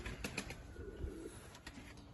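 Pigeons at a Kırıkkale pigeon keeper's flock flap their wings in short, soft bursts close by, with a low hum underneath and no talking.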